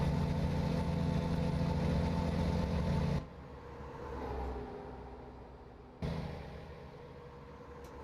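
A Volvo truck engine in American Truck Simulator drones steadily at low pitch for a few seconds, drops abruptly to a quieter idle, then surges back briefly before settling, with no other sounds over it.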